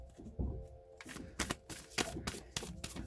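A deck of oracle cards being shuffled by hand, close up: several quick riffling bursts of papery slaps and flutters, with short pauses between them.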